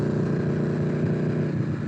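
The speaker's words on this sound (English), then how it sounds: "I'm definitely getting some backfire though" Buell 1125R sport motorcycle with an aftermarket exhaust, its engine running loud and steady with a rough, crackling, popping edge from backfiring, continuous and close with no talk.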